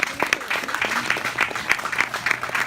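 A church congregation claps steadily in dense, rhythmic applause, loud and close, with faint voices mixed beneath the clapping.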